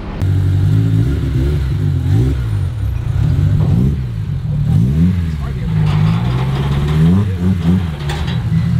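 A Honda S2000 engine runs steadily nearby, its pitch rising and falling slightly with light revs, while people talk over it.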